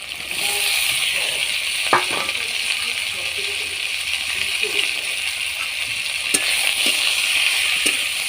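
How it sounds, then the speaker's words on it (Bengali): Potato and eggplant with shrimp fry in a pan, giving a steady soft sizzle under a few sharp clinks and scrapes of utensils; fairly close and continuous, with no talking. "এবার আলু বেগুনটাও দিয়ে দিচ্ছি"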